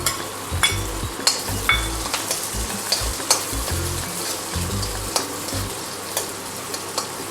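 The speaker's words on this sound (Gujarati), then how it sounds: "વઘાર કરવા માટે રાઈ લીધી છે, જીરું લીધું છે અને કડી પત્તા લીધા છે અને આપણે લીલું લસણનો વઘાર કરીશું" Mustard seeds, cumin, curry leaves and green garlic sizzle steadily in hot oil for tempering, with a continuous close crackle broken by sharp pops and occasional stirring scrapes in the pan.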